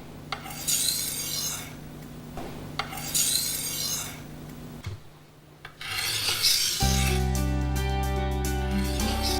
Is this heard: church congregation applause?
no